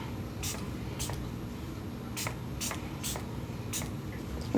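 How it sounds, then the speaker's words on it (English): Milani Make It Last primer setting spray misted in several short bursts, each a brief airy hiss; the sprays come at an uneven pace over a low room hum and are close and moderately loud. "It is setting spray, but it's primer setting spray."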